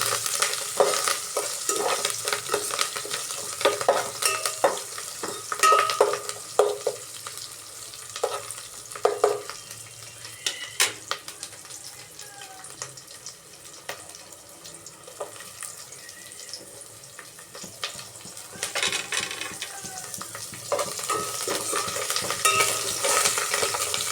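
Tempering for dal curry frying in a pan, a steady close sizzle with repeated scraping stir strokes and occasional clinks, no voices.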